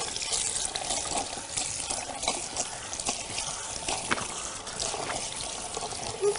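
Tap water running close by during a hair colour rinse, a continuous splashing gush with irregular spatters as it hits hair and basin, loud and steady with no talk.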